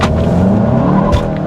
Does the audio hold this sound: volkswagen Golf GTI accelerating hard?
yes